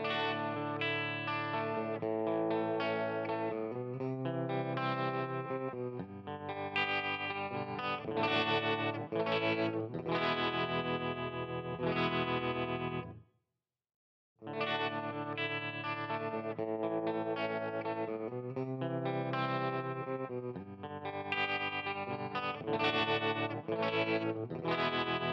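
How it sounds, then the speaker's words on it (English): An electric guitar runs through a Pro Tools 11 amp simulator with a classic tremolo effect, strumming chords with a pulsing, wavering loudness and some distortion and chorus colour. One brief silent gap breaks the playing midway. "you have the classic tremolo effect, amplitude modulation,"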